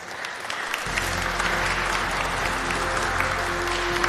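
Loud applause fills a hall at an international conference on crime reduction in Peru, starting sharply after a brief quiet moment and continuing as a dense, sustained clapping from a large audience.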